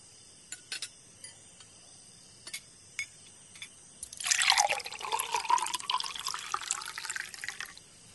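A few light clinks and drips come first, then water is poured from a jug in a steady, close gurgling stream lasting about four seconds, with no talking.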